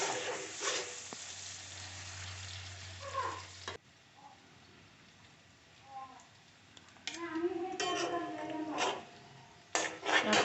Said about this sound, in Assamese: গোটেইখিনি ভালদৰে লৰাই ল'লোঁ আৰু এইখিনি অকণমান ৰঙচুৱা হোৱালৈকে ফ্ৰাই কৰিম